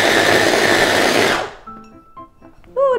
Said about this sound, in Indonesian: Oke, jadi sekarang kita mau chop udangnya.